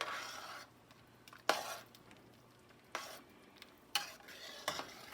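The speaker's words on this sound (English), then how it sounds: "We'll stir that in." Salt stirred into a pot of chicken noodle soup, a spoon scraping and clinking in short bursts against the pot, separated by quieter gaps with a low simmering hiss.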